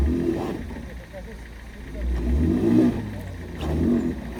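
A campervan engine revs in repeated surging bursts while the wheels try to break free of snow in Lahaul valley in winter, the low roar rising and falling close by, with voices faintly in the background.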